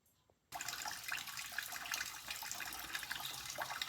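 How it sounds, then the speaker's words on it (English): Gasoline draining in a steady stream from the petcock of a vintage British motorcycle, a continuous splashing trickle starting abruptly and running on without pause, fairly faint and close. "I'm draining the gas again. Got good flow out of this petcock."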